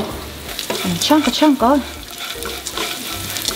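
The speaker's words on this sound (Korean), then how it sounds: "그 멸치를 이렇게 요대로 드라이하게 볶으면 비린내가 좀 없어진다고" Dried anchovies dry stir-fried in a pan at home, a soft continuous sizzle and occasional scraping of a utensil beneath a voice speaking briefly.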